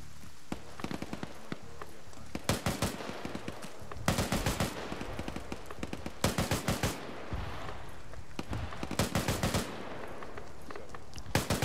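Grenade machine gun fire in a military video game, arriving as several bursts of rapid thumping shots separated by short gaps, fairly distant and dull.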